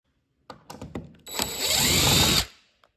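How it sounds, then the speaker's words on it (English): A power drill unscrews a door latch strike plate, starting with a few short stuttering bursts before a sustained whirring run and a rising pitch, then it stops abruptly. The drilling is close and loud, with no talk. "So I'm gonna unscrew it and move it probably about a 1/4 inch out."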